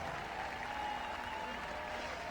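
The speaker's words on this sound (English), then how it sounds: "Let's give those two a round of applause." Applause from a crowd at a sports games event honoring two racers, a steady wash of clapping that holds evenly throughout at moderate distance, with faint voices mixed in.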